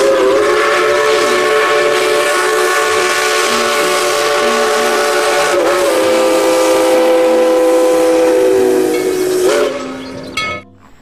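A Thomas toy train gives a long, loud steady steam whistle over hissing steam, holding one tone for about ten seconds before it falls and cuts off.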